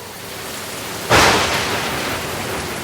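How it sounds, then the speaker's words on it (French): Thunderstorm with heavy rain and wind, a sudden surge of loud rushing rain or a thunderclap that then settles into a sustained roaring downpour. "Le vent se leva, une lourde pluie tomba"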